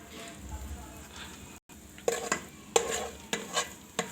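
Chopped onion, garlic, dried and green chillies fry quietly in a rice cooker pot, a soft sizzle broken by several scraping stirs of a utensil.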